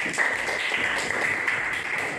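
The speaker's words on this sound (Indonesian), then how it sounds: "Tepuk tangan." Applause from a classroom of students, a steady patter of many hands clapping at moderate volume for about two seconds, with no talking over it.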